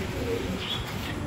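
Racing pigeons cooing in their loft, soft low murmuring coos close by against a busy background.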